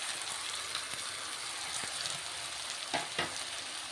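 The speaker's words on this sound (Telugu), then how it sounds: "ఈ టమాటా కూడా ఈ పోపులను బాగా ఫ్రై అయిపోవాలన్నమాట" Small tomato pieces fry in a hot tempering of spices in a pan for tomato upma, a steady close sizzle with a few scraping stirs near the end and no talking.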